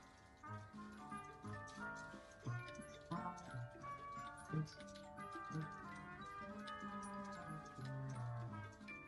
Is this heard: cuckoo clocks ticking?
yes